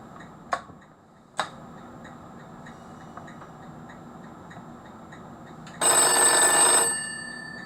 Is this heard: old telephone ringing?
yes